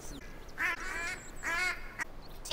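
A handheld duck call used for duck hunting gives two raspy, nasal quacks close by, each about a quarter second long, with short pauses between and faint background noise.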